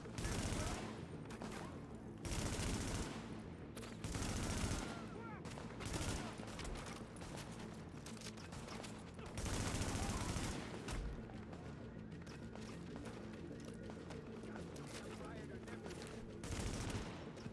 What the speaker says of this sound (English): He's got a machine gun or something.